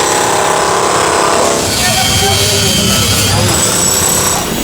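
A grinder runs loud and steady at a store structure built out onto a city sidewalk, its harsh broadband whine filling the whole stretch while voices talk over it.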